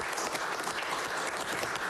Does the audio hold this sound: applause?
yes